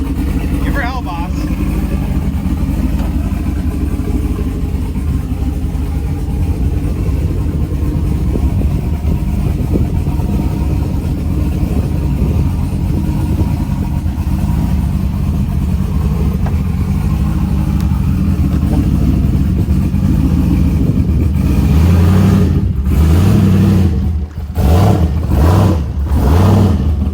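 A turbocharged LS engine in a street car runs hard on a dyno, a loud, steady low roar filling the space, with sharper revving pulses near the end.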